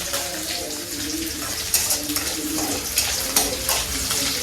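Radish and potato frying in a pan, a steady sizzle with occasional stirring scrapes, while people talk nearby.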